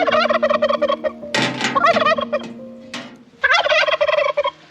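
A male turkey gobbles loudly and close, in several rapid warbling bursts separated by short pauses.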